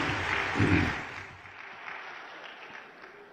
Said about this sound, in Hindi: जोरदार तालियां श्री राजनाथ सिंह जी के लिए